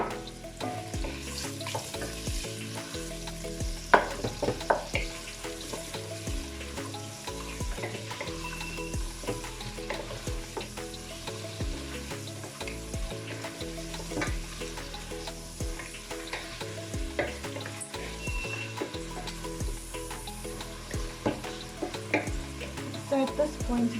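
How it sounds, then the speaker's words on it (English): Onions, green pepper, curry leaves and green chili fry with spices in a pan, giving a steady close sizzle with repeated stirring scrapes and clinks throughout, no voices. "I'm adding the onions, green pepper, which is optional again, curry leaf and green chili. Just going to give this a mix."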